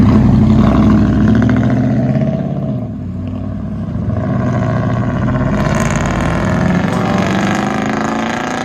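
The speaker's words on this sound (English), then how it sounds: "So much traffic as usual." Loud, continuous engine and road roar from nearby traffic, with a deep rumble that swells and eases slightly as vehicles pass, steady for the whole stretch with no voices.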